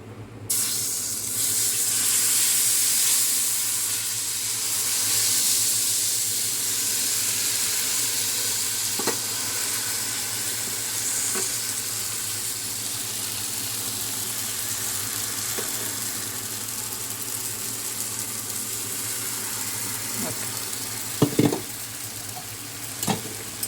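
Ragi rava dosa batter sizzling on an oiled cast iron pan: a steady, bright frying hiss that runs continuously, with a few faint clicks and a louder clatter near the end.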